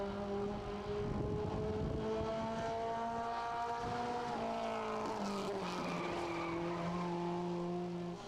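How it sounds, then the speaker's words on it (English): Super Truck race truck at speed on the racetrack during a qualifying run, a loud steady engine roar with clear harmonic tones that shift pitch as it passes, filling the whole stretch with no talk. "Driver 11 on the racetrack right now, Wesley Newell"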